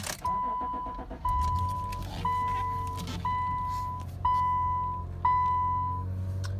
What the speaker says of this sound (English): I'll hop in here and start it up.